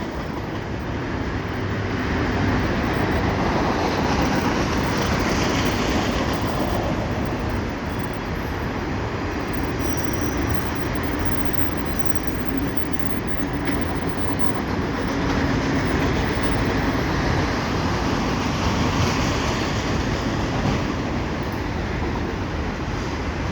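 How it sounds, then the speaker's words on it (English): A CP double-stack freight train rolls steadily past a footbridge, a continuous loud rumble of rail cars with faint clickety-clack, no voices, sustained from start to finish. "I think this is train 133, if I'm not mistaken, heading westbound for sure."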